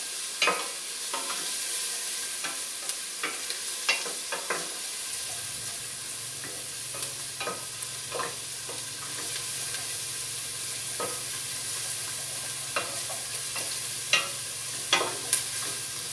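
Sweet onions and garlic sizzle steadily in a soup pot, with a continuous frying hiss broken by repeated scraping clicks and knocks from stirring, close and fairly quiet throughout.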